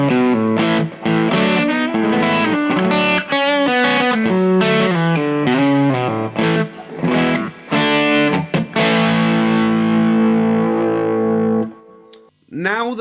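Electric guitar played through a Wampler Paisley Deluxe overdrive pedal, loud and continuous with a fizzy, saturated distorted tone, strummed chords and riffs that ring out and then stop abruptly near the end.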